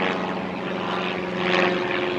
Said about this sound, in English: Ooh, check it out, we got a wild plane.